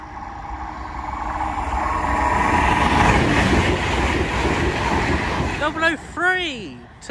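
A train passes a level crossing nearby, a broad rumbling roar that swells to a peak and then fades, followed by brief wavering tones and a voice toward the end.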